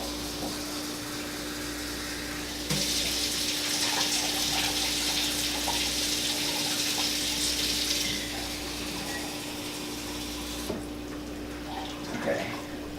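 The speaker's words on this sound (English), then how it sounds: "measure out 3 cups of water." A kitchen tap runs into a measuring cup as 3 cups of water are measured out, a steady rushing flow that swells louder partway through and then eases, over a constant low hum.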